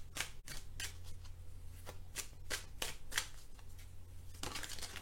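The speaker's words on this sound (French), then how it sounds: "je bats les cartes, je les laisse sauter et je prends uniquement celles qui sautent" Marseille tarot cards are shuffled by hand in a series of quick riffles and soft slaps, close and fairly quiet, in an otherwise still room.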